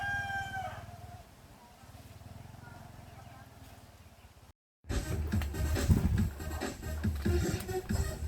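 A rooster crows once, fairly close, at the start, followed by a low hum; after a brief dropout, busier outdoor noise follows.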